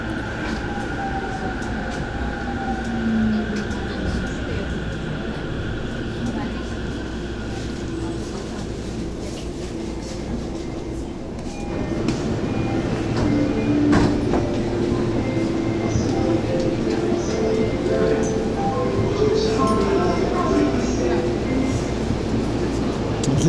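Steady rumble and rail hum from inside a monorail car in Japan, with a brief tone early on and a shift to louder running noise midway, continuous throughout with people talking faintly.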